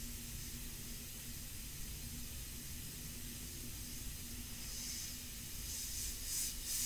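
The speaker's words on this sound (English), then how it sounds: "it's getting louder. My poor compressor, I killed it." An airbrush air compressor runs with a steady, continuous hiss and low motor hum, holding an even level throughout and swelling slightly near the end, with no talk.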